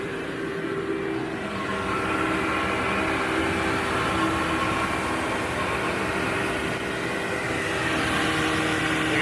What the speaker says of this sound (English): all I'm doing is vacuuming the dry soil